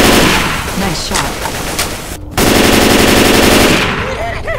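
Rapid automatic fire from an M16 rifle in Left 4 Dead 2 rattles loud and close in sustained bursts, with a brief pause before the firing resumes amid game sounds and voices.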